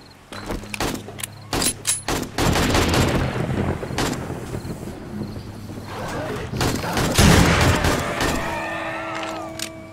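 Bursts of AK rifle fire aimed at zombies in the survival game 7 Days to Die, loud rapid volleys coming in several clusters with brief gaps, heavier firing near the end, and players talking over the shots.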